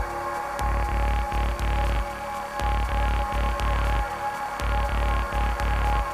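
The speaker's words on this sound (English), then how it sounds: "the pulsating click and alternating white noise, left and right white noise sounds" A Soma Enner synth playing a pulsating rhythmic click with white noise alternating left and right, layered over a throbbing low bass pulse in a steady repeating pattern, with no voices.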